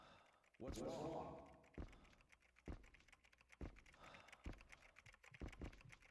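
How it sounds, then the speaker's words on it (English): Rapid clicking of keys on a keyboard inside a video game, sharp taps falling in uneven bursts that sit close and clear against a low background hum, with no voices over them. "You're typing."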